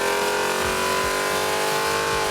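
A 1,100 HP naturally aspirated big block V8 on a dyno pull for a '72 Mercury Marquis, running pump gas, roars loud and steady with a sustained high engine tone and rising revs throughout, no talk.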